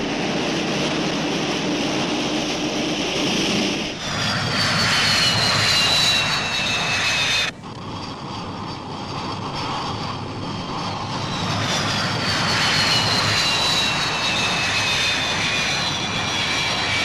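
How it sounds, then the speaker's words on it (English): Sea Vixen jets circling to land on an aircraft carrier steaming into the wind, heard as a loud, continuous jet roar with whining high tones that slide downward as aircraft pass, and a brief cut midway. "The Vixens join the circuit as the carrier swings into wind and picks up speed, ready to receive the returning aircraft."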